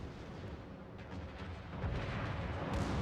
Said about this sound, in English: Our secondaries are actually shooting at each other.